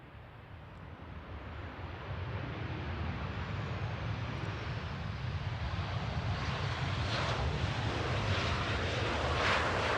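A Boeing 737-800 arriving at Manchester after a short hop from Derry swells from a moderate rumble into a louder, building engine roar, steady and broad, with wind buffeting the microphone.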